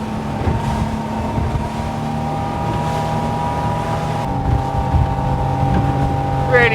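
Iron boat powering at speed over smoother water, a steady loud engine drone with wind and hull rush, rising slightly in intensity toward the end.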